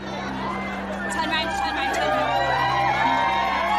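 A large crowd gathered in sweltering heat for a royal visit by the Duchess keeps up steady, dense chatter, with occasional whoops and cheers rising from the mass of voices throughout.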